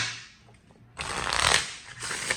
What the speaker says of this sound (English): One more shuffle and we'll pull.